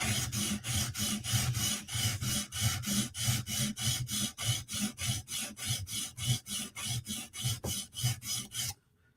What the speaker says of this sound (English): we have to grind away at the top to make it even